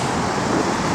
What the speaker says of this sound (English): when you fire this thing up, guys, you'd never know that's a 318 underneath the hood